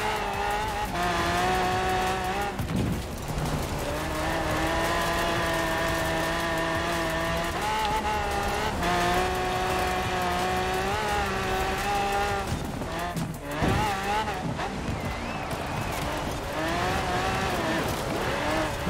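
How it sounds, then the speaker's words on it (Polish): Race car engine in Forza Horizon 4 revving steadily through gear changes for the whole stretch, loud and continuous, with brief tire squeals and skids breaking in near the middle. "Auto jedzie samo, zmienia biegi."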